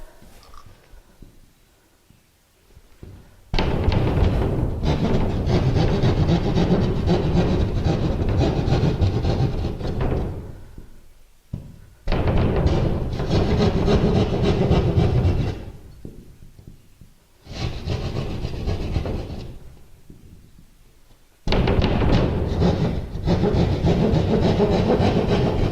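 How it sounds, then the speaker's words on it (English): Drywall saw cutting a drywall panel for hanging on a crooked wall: loud, rough rasping strokes in four long bursts separated by short pauses, close up and with no talk. "Get my drywall saw."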